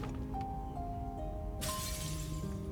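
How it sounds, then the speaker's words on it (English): A coffee cup shatters in the Punishing Gray Raven video game, a sudden bright crash partway through that lingers as a hissing spray over steady background tones. "Sound of a coffee cup shattering."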